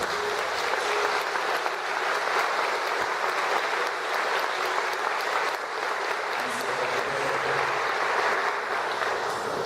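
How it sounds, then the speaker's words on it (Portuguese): Church congregation at a thanksgiving service applauding in praise, a dense, steady wash of clapping from many hands that holds evenly throughout at full strength. "Aplauda o nome do Senhor."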